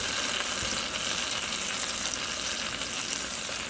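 A steady, loud, dense sizzle of food frying in a pan with olive oil and butter, cooked in batches for miso spaghetti. It runs continuously, close up, with no talking.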